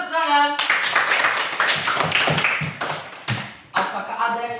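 A classroom of students claps hands together, a burst of brisk clapping that starts after a short voice, continues steadily, and ends with a couple of sharper final claps.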